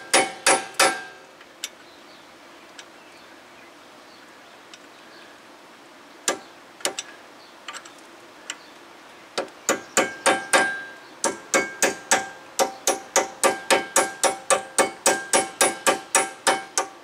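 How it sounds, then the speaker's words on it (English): Hammer blows peening the nut on a 2011 Toyota Highlander AWD rear wheel bearing: a few scattered sharp metallic strikes, then a fast, steady run of loud, close ringing hits. "There, they're gonna peen the nut."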